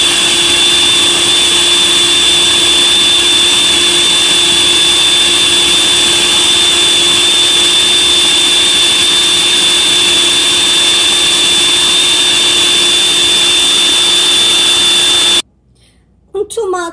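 Blender running while making allergy-friendly milk, a loud, constant whining motor drone with a steady high tone, close by, cutting off abruptly near the end before a brief rustle.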